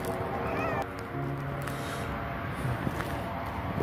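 A cat near a plane meows in a few brief, faint calls against an outdoor background with low rumbling and scattered noise.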